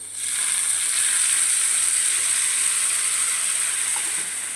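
A ground peanut and tomato chutney mixture, poured into a hot pan with curry leaves, sizzles in a loud, steady hiss that fills the whole stretch and tapers slightly at the end.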